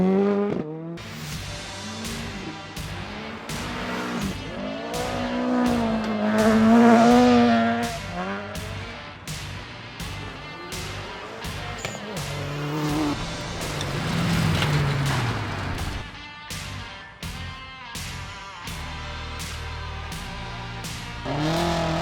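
Rally car on a gravel stage at the Catlins Rally, engine revving hard through gear changes, climbing and falling as it passes with bursts of tyre noise, loud and close throughout.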